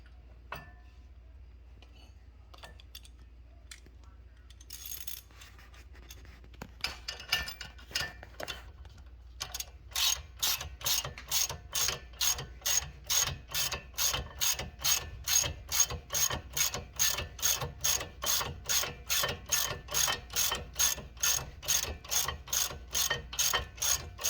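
A ratchet tightens E18 caliper bolts on an Alfa Romeo during a brake and rotor job, with fast, even clicking strokes repeating steadily and close by after a few quieter handling sounds.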